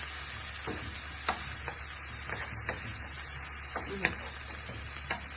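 Celery stir-fried in a pan over a medium flame for cabbage stir fry, an even sizzle broken by periodic scraping stirs and clinks, close and moderately loud.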